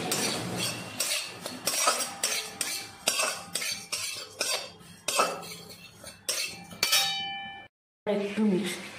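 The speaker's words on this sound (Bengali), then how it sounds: "আমি ওটসটাকে একটুখানি কড়াতে নেড়ে নেব" Oats stirred in a kadai, giving a run of repeated metallic scrapes and clinks of a utensil against the pan, fairly close and steady, with a brief silent gap near the end before the stirring resumes.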